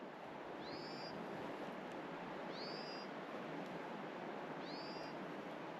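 Three high, rising screeches spaced a couple of seconds apart ring out over a steady rushing background, like a bird calling at night near a river in Alaska.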